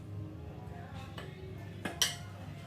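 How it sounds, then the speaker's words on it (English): Egg being beaten into creamed cookie dough in a bowl, a soft continuous churning with a few light utensil knocks and one sharp clink against the bowl near the end. "now we're just going to tip into here 1 egg and beat that into that mixture"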